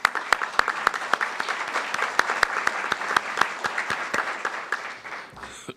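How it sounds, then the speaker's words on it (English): Conference audience applauding the EAC at a 2020 elections gathering, a moderate crowd clapping steadily with a few sharp, prominent individual claps standing out, fading at the very end. "I'd like to give, at this point, a nice round of applause for the EAC."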